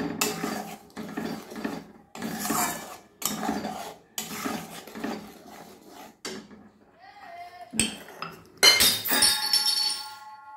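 Egg curry gravy with sour curd being stirred in a pan over a low flame, giving repeated scraping and clinking of a utensil against the pan in bursts, with louder clatter near the end.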